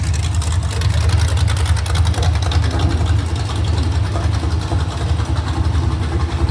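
A small-block Chevy 350 V8 idles just after its first start, a loud, close, steady lumpy rumble with a rapid, even exhaust pulse and no voices.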